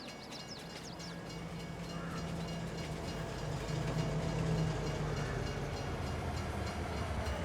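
A train rolls in steadily in the video game Farming Simulator 22, a continuous rumble of wheels and rail noise that grows slightly louder as it arrives, with no talk over it.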